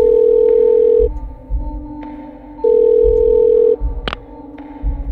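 An old telephone in the survival-horror game Parasite Eve 2, giving a loud, repeating electronic ring in long steady bursts separated by pauses, with a sharp click partway through, no talking.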